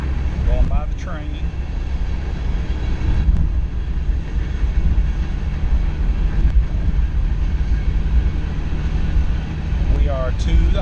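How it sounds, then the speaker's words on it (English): A train passes, heard from a moving Astro van on the road: a loud, continuous low rumble and rolling drone that swells slightly and holds throughout, mixed with vehicle noise. "Going by the train."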